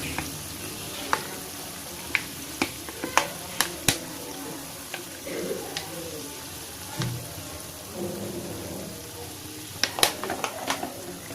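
Vegetable oil sizzling in a pan for chili garlic paste, a soft steady frying hiss broken by sharp, scattered pops and crackles.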